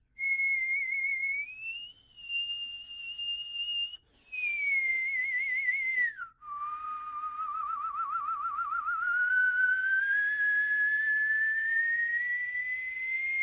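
A person whistles a sustained, wavering melody up close, sliding between pitches with trills and vibrato, broken by a couple of brief pauses, with no other sounds around it.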